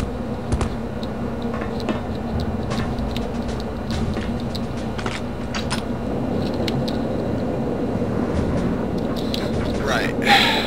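A tram in Return to Castle Wolfenstein rumbles along with a steady low hum and a scatter of sharp ticks and clicks over it, and a voice speaks through the moving noise.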